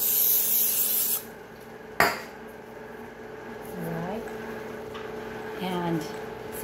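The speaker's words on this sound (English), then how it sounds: "So I'm gonna go ahead and spray the can." A spray can lets out a short hiss of about a second while making ube cookies, then a sharp clack follows and quiet kitchen sounds carry on.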